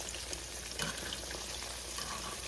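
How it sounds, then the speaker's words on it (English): Pork chops in mustard fry in a pan with a steady, faint hiss and crackle throughout, no voices. "So I'm gonna let them fry a little bit more"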